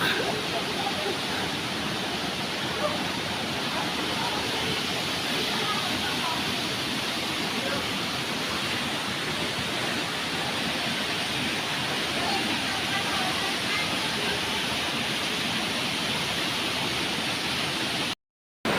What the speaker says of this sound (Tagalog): Ito yung taas ng falls.